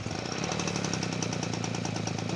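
A Peugeot 103 moped engine runs with its choke on, a fast, loud, rapidly pulsing two-stroke rattle held steady and close.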